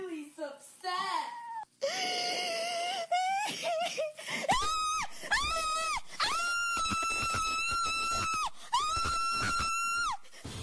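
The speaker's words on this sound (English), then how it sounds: "Sobbing followed by horrific screams." Recorded sobbing breaks into horrific, sustained screams and wails from a woman during a violent attack at home, loud and repeated in long drawn-out cries with short pauses between them.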